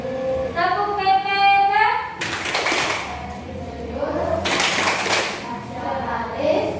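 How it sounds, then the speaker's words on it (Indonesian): A primary school class performs the rhythmic tepuk PPK clapping chant, with two loud bursts of group clapping set between stretches of chanted voices in a classroom. "Ada satu tepuk lagi, yaitu tepuk PPK yang biasa kita lakukan."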